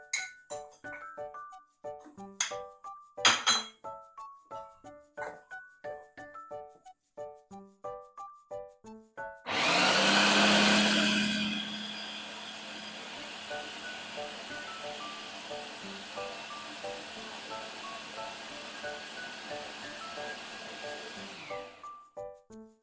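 An electric grinder runs for about twelve seconds, dry masala spices whirring loudly at the start and then settling into a steady grind. Before it, glassy clinks and taps come from the jar as the dry spices go in.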